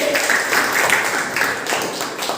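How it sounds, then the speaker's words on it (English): Students clapping for a team during a classroom quiz, a close, loud patter of many hands that continues steadily throughout. "So team A got 40 marks. Clap for team A."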